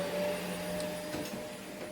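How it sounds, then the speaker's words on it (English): A vacuum cleaner runs steadily during carpet cleaning, a continuous loud motor whine with a stable tone, no voices over it. "So we got Ethan in the vacuum cleaner."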